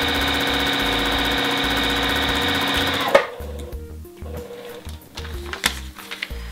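A sewing machine stitches fabric along a paper foundation piecing line, a fast, even mechanical whirr heard close up for about three seconds before it stops, followed by soft fabric and paper handling sounds.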